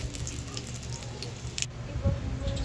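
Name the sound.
pork lechon kawali sizzling while frying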